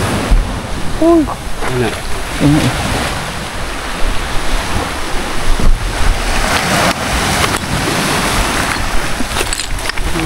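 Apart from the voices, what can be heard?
sea waves growing bigger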